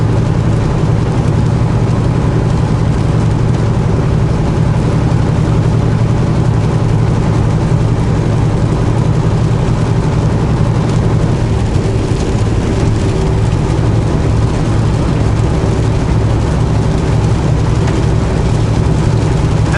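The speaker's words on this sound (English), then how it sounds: "Enjoying this rain. I like rain." Rain on a moving vehicle in Canada, a steady loud wash over a constant low engine and road drone from inside the cab, unbroken throughout.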